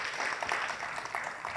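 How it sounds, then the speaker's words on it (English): Audience applause at an entrepreneurs' awards ceremony, a steady, fairly soft and distant patter of many hands clapping together without pause. "If you could please give an applause to those wonderful people who support"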